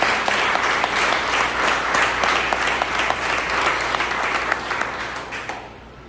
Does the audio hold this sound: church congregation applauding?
yes